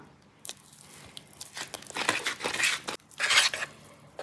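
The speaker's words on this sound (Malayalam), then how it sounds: "ഇനി നമുക്ക് ഈ വെറ്റ് ഇൻഗ്രീഡിയൻസും ഡ്രൈ ഇൻഗ്രീഡിയൻസും കൂടെ ഒന്ന് നന്നായിട്ട് മിക്സ് ചെയ്തെടുക്കാം." Wet and dry ingredients for a homemade chocolate cake batter are mixed in a bowl, irregular scraping and clinking strokes that build and pause, close and moderately loud with no speech.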